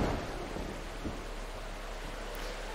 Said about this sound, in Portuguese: uma tempestade está rugindo.